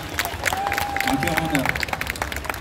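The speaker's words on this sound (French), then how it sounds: "une main d'applaudissement pour Dabi" An audience at Japan Expo claps for a guest during a cosplay panel, a brisk burst of applause under a speaking voice, with a sustained whistle-like tone rising briefly in the middle.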